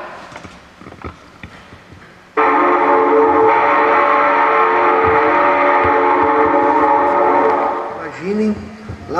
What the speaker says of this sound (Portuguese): a Maria Fumaça, a locomotiva 310, soltando o seu vapor e o seu apito